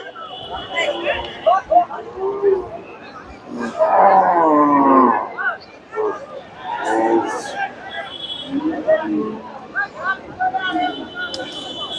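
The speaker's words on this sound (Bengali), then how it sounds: "মাঠে প্রচুর গরু আছে" Cattle low and moo amid a busy crowd at a Qurbani Eid cattle market, with people talking and calling all around, and a long, loud moo rising in the middle.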